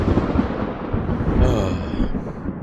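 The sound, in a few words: thunder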